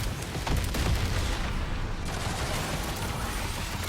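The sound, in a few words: tank machine gun firing in Trailmakers video game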